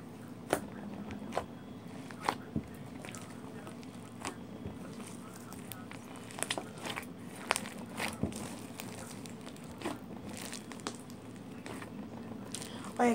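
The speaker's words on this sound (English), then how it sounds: "The crunchy noises and the poking." Crunchy slime squished and poked with fingers for ASMR, giving a steady run of small wet crackles and sharp clicky pops up close, scattered irregularly throughout with no talking.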